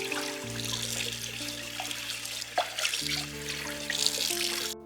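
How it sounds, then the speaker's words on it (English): Tap water runs while a bowl holding leftover tea is washed under it, with splashing and dribbling over a steady low hum from the kitchen, and a few louder splashes. "And here I'm going to wash the bowl because you see it has a bit of leftover"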